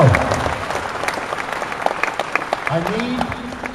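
An audience at a William Shatner Q&A at Toronto Fan Expo 2011 claps and cheers loudly, applause fading slightly then swelling again, with voices mixed into the crowd noise.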